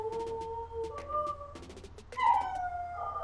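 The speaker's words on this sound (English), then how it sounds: "my dog's howling now because an ambulance went by." A dog howls in long, wavering tones at a passing ambulance, rising and falling over a few seconds, with a steady low hum underneath.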